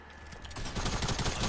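Rapid automatic gunfire from a Tech SMG in the Fortnite video game, a dense burst of repeated shots that swells louder over a second and a half, with no talking.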